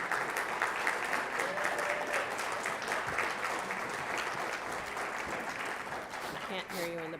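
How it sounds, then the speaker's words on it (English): An indoor audience at a fundraiser breakfast applauds volunteers with steady, dense clapping that fills the room and stays fairly soft throughout. A few voices come through near the end. "But I'd like a big round of applause for all of our volunteers."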